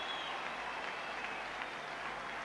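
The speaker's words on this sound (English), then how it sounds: "Taking the applause of the Leeds support, and why not?" A rugby league crowd at a 1998 Leeds Rhinos v St Helens elimination semi-final applauds a try, a steady, distant wash of clapping that carries on throughout.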